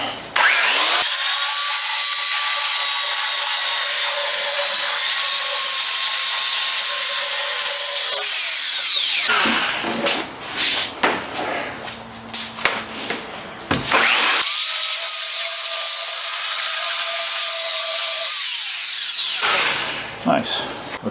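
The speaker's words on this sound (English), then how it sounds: "I'm gonna use probably pull out an actual grinder and grind some of this down." An angle grinder grinds down material in two long, loud, whining bursts with a roughly five-second gap of scraping and handling noise between them.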